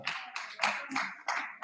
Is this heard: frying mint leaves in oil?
no